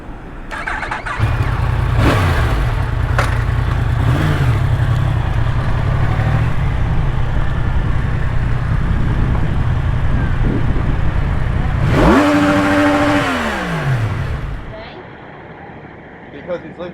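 Motorcycle fitted with a quad exhaust that sounds like a four-wheeler, idling loudly and steadily, then revving up sharply with a rising and falling pitch before settling, with some background noise.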